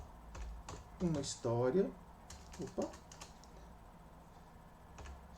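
Someone types on a computer keyboard, entering a title, with a few quick bursts of crisp key clicks close by while a voice speaks briefly between them.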